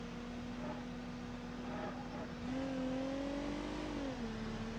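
A 3.5-liter all-wheel-drive taxi in a video game drives at a steady, moderate level. Its engine drone climbs in pitch midway, then eases back down, with no one talking.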